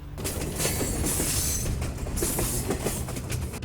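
A speeding westbound train rushes past in a loud, continuous roar of wheels on rails, with rhythmic clatter and faint squealing throughout and no voices.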